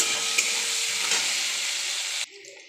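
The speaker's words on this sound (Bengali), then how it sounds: "একটু নুন দিচ্ছি, নুন দিলাম, একটু হলুদ দিলাম, এটা ফ্রাই হয়ে যাক।" Brinjal fries in hot oil with turmeric and salt, a loud, steady close-up sizzle with faint stirring scrapes that cuts off suddenly near the end, leaving a quieter hiss.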